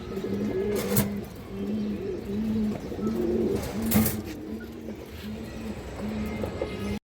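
Pigeons coo repeatedly in a steady rhythm, close and clear, among a flock of black and green-necked fancy pigeons kept for sale; the calls overlap continuously with a few sharp sounds.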